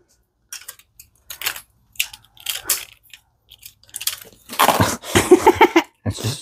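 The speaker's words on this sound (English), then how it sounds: "It's just a tape dispenser." A tape dispenser seals a cardboard box shut, with scattered short rustles and handling clicks followed by a louder, longer rasping burst of tape pulled and pressed across the box, close by in a quiet room.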